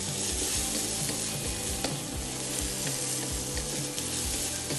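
Garlic, ginger and white onion fry briskly in a pan for egg fried rice, a dense, loud sizzle broken by repeated scraping strokes of a utensil.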